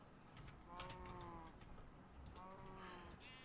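A baby cow in Minecraft gives two short high-pitched moos a couple of seconds apart, faint and close, over a soft background hum with light clicking.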